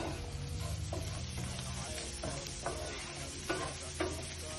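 Beef strips, cut into short square sticks for shawarma, sizzle steadily in a hot pan, with a few soft scraping clicks and taps as they are gently turned; no voices.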